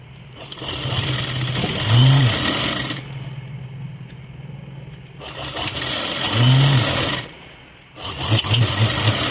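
A sewing machine stitches a katori blouse in loud, close bursts: two long runs of rapid whirring and stitching separated by a pause, then a third run starting.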